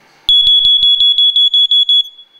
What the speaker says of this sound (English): Remember, test the alarm.